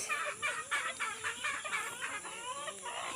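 Backyard chickens cluck in a steady, busy chorus close by, with overlapping calls and a rooster-like edge now and then, and no talking.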